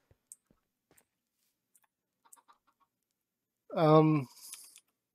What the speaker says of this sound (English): Why are there chickens everywhere?